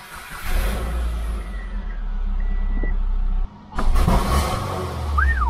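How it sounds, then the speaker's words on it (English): A Subaru Impreza 2.5L engine with a dirty MAF sensor idles with a low rumble, briefly cuts out, then gives a sudden sharp intake backfire pop before settling back into a running drone. "That's like an intake backfire."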